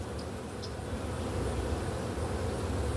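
Honeybees buzz around an open hive during an inspection, a dense continuous hum with low rumble underneath, steady and close for three seconds with no voices.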